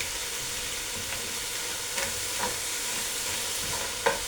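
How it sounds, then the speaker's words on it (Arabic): Crab sizzles steadily as it is sautéed in oil for a seafood soup, with a constant hiss of frying. Occasional stirring scrapes and clicks come through now and then, and no one speaks. "حطينا حبه زيت وبشوح الكابوريا اهو"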